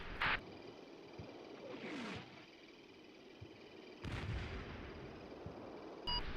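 Artillery and mortar fire in the Combat Mission Battle for Normandy war video game, a few distant booming shots spread over several seconds with low rumble between them.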